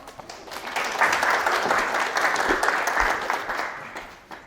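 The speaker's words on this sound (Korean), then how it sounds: "박수로 맞이해 보도록 할게요." An audience at a real estate market seminar applauds to welcome a speaker to the stage, the clapping swelling quickly, holding steady and full, then thinning out toward the end.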